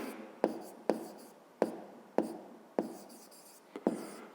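A pen writes by hand on paper while a math exercise is worked through, giving six or seven distinct, close strokes at a steady, unhurried pace, each a short scratchy attack that fades, with no talk.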